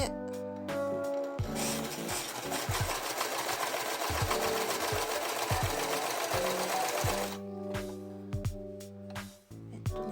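An overlock serger sewing machine runs steadily for several seconds, stitching fabric at an even, rapid hum with a brief stop and start at either end.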